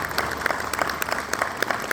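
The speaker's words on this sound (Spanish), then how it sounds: "Un aplauso para todos los egresados." A crowd applauds graduates at a graduation ceremony, with distinct individual claps standing out over a continuous bed of clapping, moderately loud and fairly close.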